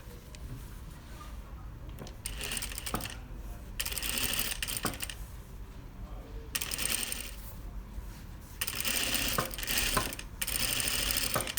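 A sewing machine stitches down a bias binding that encloses the raw edge of a garment seam. Several bursts of fast mechanical whirring and clatter start and stop between short pauses, close and moderately loud, with no speech.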